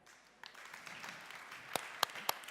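A small audience claps lightly at a diversity talk, a soft patter of hands with a few sharper, louder individual claps standing out near the end.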